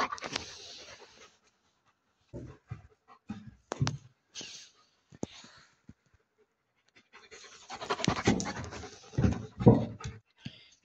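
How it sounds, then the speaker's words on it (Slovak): A small dog pants in quick, close bursts of breath, pausing in silence between runs, then breathing faster and louder toward the end with a faint whimper. "A tu je ešte môj psík."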